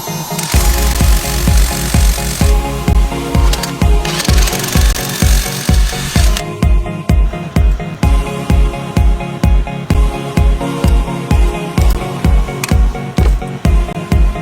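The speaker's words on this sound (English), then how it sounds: "it just comes with assorted drill bits that step down to bigger diameters" A step drill bit bores a hole through a car headrest mount, producing a loud, steady stream of rapid rhythmic grinding pulses that run continuously without talk.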